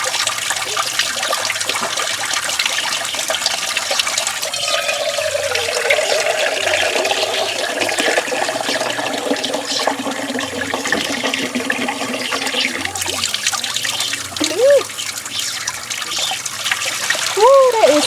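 Water runs steadily from an outdoor sink during a hair wash, a continuous splashing and trickling rush close by, with occasional splatters and a voice speaking briefly near the end.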